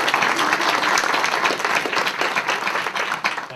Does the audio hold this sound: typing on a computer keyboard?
no